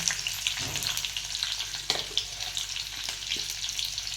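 Garlic sizzling steadily in hot oil in a pan for rural-style mung dal amti, a loud, continuous frying hiss with a few faint clinks and stirring scrapes, and no voices.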